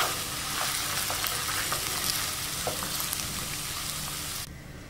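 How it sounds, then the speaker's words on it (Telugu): Mango rice tempering sizzles and crackles steadily in a pan as it is stirred, with a dense, close frying hiss, scattered small pops and scraping, until the sound drops away suddenly near the end. "ఒక్కసారి మొత్తం కలుపుకొని స్టవ్ ఆఫ్ చేసుకుందాం"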